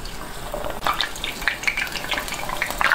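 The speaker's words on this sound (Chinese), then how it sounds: "直接下锅炸就行。" Battered ingredients deep-frying in a pot of hot oil, giving a steady close bubbling sizzle with brief louder crackling bursts throughout, no voices.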